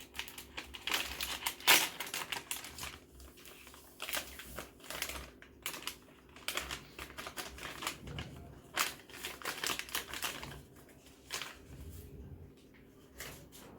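Dr. Oetker lemon glazed cake mix packet torn and opened by hand, a run of crinkly plastic rustles and tearing bursts of varying loudness, close and with no voices.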